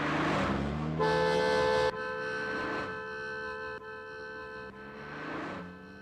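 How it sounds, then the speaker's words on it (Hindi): A car horn honks in sustained blasts, loud and close, with a steady engine rumble underneath. "गाड़ी आ रही है, हॉर्न बजाओ।"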